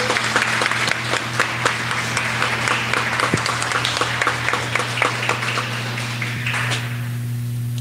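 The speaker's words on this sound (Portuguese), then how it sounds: "Aplauda o Senhor nessa noite." A congregation at a home worship service for the Lord's Supper claps steadily together, a dense and sustained round of applause with no voices over it, tapering slightly near the end.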